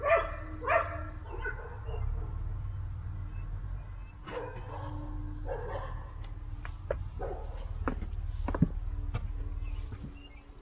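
Several dogs bark outdoors near a large forest, a few sharp yaps early on and then scattered barks and yips of moderate loudness, heard without speech.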